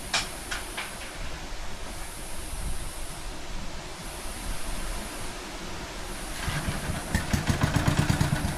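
A Locke reel mower engine runs steadily with a dense, rough mechanical roar and a rapid firing chatter that grows slightly louder and busier toward the end.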